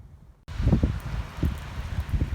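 Rain falls outdoors with a soft, wind-buffeted patter and rustle that starts abruptly and continues unevenly, close to the microphone, with no voices.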